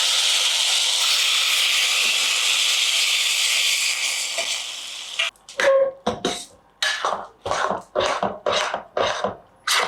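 Cashews and raisins frying in ghee for Annavaram prasadam, a steady close hiss for several seconds, then broken into a run of short sizzling bursts as the pan is stirred.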